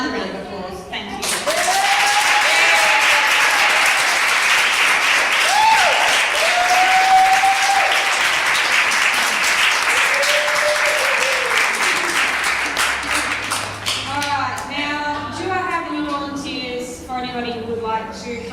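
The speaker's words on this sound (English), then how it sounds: "another round of applause" Audience applause at an Aboriginal poetry open mic night in a gallery: dense, sustained clapping fills the room while a voice talks over it, then the clapping thins as speech takes over near the end.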